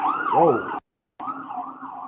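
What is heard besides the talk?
sirens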